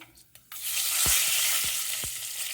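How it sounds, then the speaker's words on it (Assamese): Panch phoron spices hit hot oil for an Assamese sweet-and-sour tomato chutney and burst into a loud, steady crackling sizzle after a brief quiet start, with a few dull spoon knocks underneath and no talking. "তেলটো গৰম হ'ল, ইয়াত পাঁচফোৰণ কেইটামান দি দিওঁ।"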